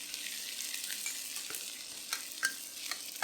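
Roughly chopped garlic, ginger slices and the white parts of spring onions fry in hot oil, making a continuous quiet crackling sizzle with a few brief pops and stirring scrapes.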